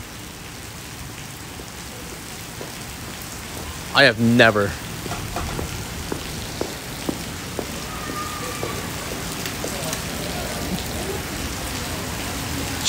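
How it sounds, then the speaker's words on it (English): Heavy rain pours down in Seattle as a dense, steady roar of drops on hard surfaces. A man's brief exclamation rises over it once. "I have never seen rain this bad here in Seattle."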